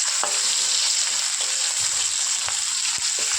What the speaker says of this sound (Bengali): ভালো করে এটাকে নাড়াচাড়া করবো, যাতে আদা কাঁচা গন্ধ না থাকে